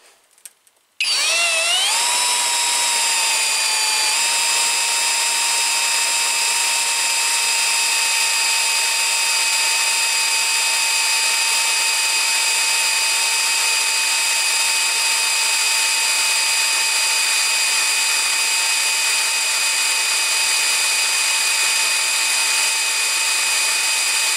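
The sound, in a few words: Skil cordless drill model 3071 drilling a hole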